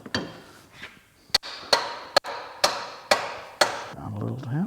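A hammer strikes a punch into a John Deere 2038R loader stand, six sharp metallic blows at a steady pace with ringing decay, close by, ending with a brief voice.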